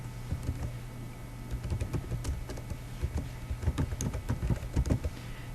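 Rapid, irregular clicking of keys on a computer keyboard, steady and close, with a low hum underneath and no voices.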